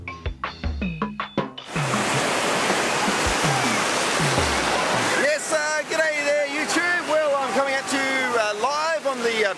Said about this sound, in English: I've got a bit of a job to let myself be heard over the noise of the sand and the surf